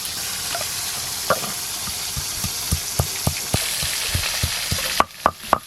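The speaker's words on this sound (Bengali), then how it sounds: "মাছ ভাজা হচ্ছে, আপনারা দেখতে আসুন।" Small pond fish sizzle and crackle steadily in a frying pan, with sharp clinks and scrapes of a utensil turning them at irregular intervals, a few louder knocks near the end.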